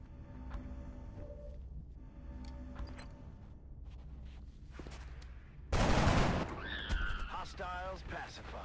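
Gunfire in the turn-based strategy game XCOM Enemy Within: faint ambient sounds and soft clicks give way to one loud sudden burst of shots, followed by lingering sci-fi whirring and chirping effects.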